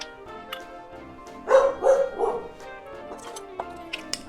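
A dog barks indoors in a home kitchen, three or four close, loud barks in quick succession followed by a few faint clinks and small sounds.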